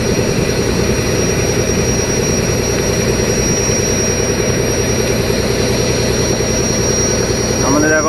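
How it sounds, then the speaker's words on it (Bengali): A fishing trawler's engine drones steadily and loudly throughout, a constant low rumble with wind noise and no clear speech over it. "আমাদের এখন ট্রলার চলছে"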